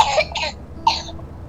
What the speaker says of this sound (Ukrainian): можна кашляти, будь ласка?